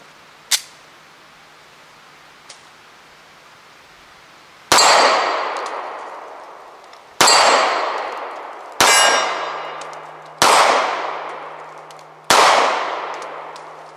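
A P38 pistol shooting at swinging steel plates at a live-fire range: five loud metallic clangs ringing out and decaying, spaced a second or two apart, after a couple of faint early taps.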